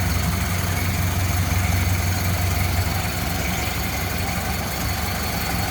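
A 1929 Ford Model AA truck's inline four-cylinder engine with a single downdraft carburetor idles smoothly and steadily, a close, even, low rumble with a constant hum and no talking.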